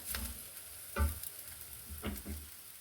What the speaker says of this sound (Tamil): இப்போ நல்லா ஃப்ரை ஆகிடுது.